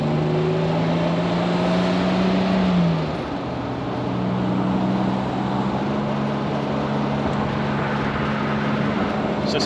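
A 1959 Jaguar XK150 engine droning steadily while driving, with a clear pitch drop near three seconds as revs fall during a gear change, then a constant cabin hum, loud and close.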